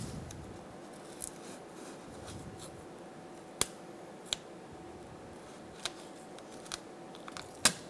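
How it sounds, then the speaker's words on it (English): Painter's tape pulled and pressed onto the painted bumper of a 2000-2006 Toyota Tundra, giving a scattering of faint, sharp ticks and small crackles over a quiet background, no talk. "Install some painter's tape to avoid scuffing the paint"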